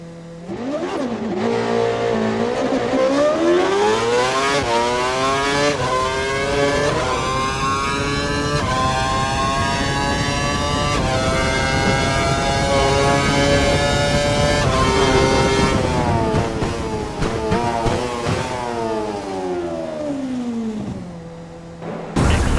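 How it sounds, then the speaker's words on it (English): An F1 race car in the F1 2012 video game on a test track, its engine screaming through repeated upshifts as it accelerates hard past 160 mph, loud and continuous before it drops off at the end. "Head down the track, accelerating past 160 miles per hour, then brake so that you come to a complete stop in the designated area."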